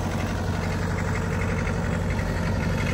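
A John Deere 2010 tractor engine runs at a steady idle while hydraulically lifting a new plough, with a continuous close, even mechanical drone and no speech.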